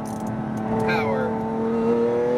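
Engine of a Porsche GT2 RS or Lamborghini Aventador SVJ accelerating on a Las Vegas track, a loud steady drone rising in pitch from inside the car, with someone talking over it.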